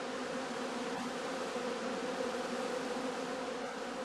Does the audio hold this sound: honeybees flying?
yes